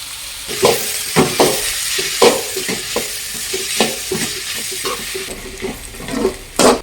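Onions fry with crushed ginger garlic paste in a pan, giving a continuous hiss and sizzle. Repeated close scrapes and knocks from stirring punctuate it in an irregular rhythm.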